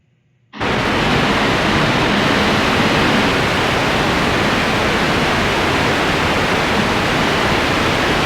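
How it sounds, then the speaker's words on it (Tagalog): A steady, loud hissing white-noise test signal switches on abruptly after a brief silence and continues evenly without change, with no talking. "A white noise sounds hissy."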